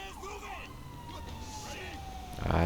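Fire truck and ambulance sirens wail in the LSPDFR police mod video game, rising and falling tones sweeping steadily under someone talking, with a louder burst of noise at the very end.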